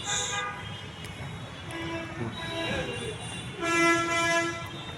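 A British-era steam locomotive on Bangladesh Railway sounds repeated horn toots, a short high blast then longer harmonic whistles, over a rumbling train in the background.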